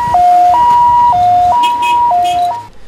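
An ambulance siren at a marathon on Green Island, Taiwan, blares loud and close in a steady two-tone high-low wail, alternating roughly every half second, with no voices.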